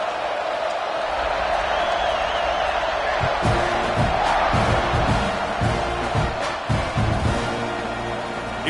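A stadium crowd roars and cheers in a college football video game, a broad continuous wash of noise with rising swells and thumps, under a commentator's voice.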